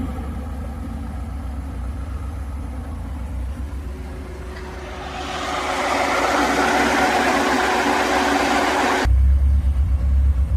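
A Zhiguli car engine idles steadily until its radiator cooling fan kicks in about halfway, adding a broad, louder whooshing rush over the running engine that then stops abruptly.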